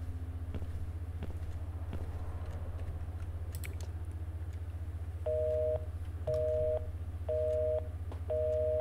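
Telephone busy signal in a mystery video game, four evenly spaced beeping pulses repeating over a constant low electrical hum, heard alone without talking.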